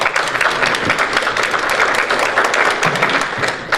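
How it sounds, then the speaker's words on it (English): Audience applause for the board at a WDNBH NDEAM 2025 event: steady, dense clapping from a full room that holds at an even, loud level throughout, with no voices on top. "So an applause for my board for seeing this through with me."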